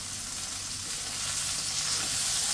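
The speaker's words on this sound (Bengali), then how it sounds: "একটু হালকা একটু লাল লাল করে ভাজবো।" Green chilies fry in oil in a pan with a loud, steady sizzle that swells slightly toward the end, close and uninterrupted by talk.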